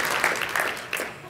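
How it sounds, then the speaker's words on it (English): Applause at a city's annual address, a brief burst of scattered clapping from the audience, moderately quiet, with a few sharper claps standing out before it tapers. "I think that definitely needs a great round of applause"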